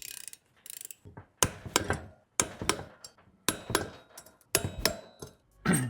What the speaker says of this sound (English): Now I'm going to torque them with about 25 Nm.